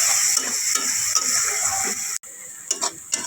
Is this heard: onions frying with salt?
yes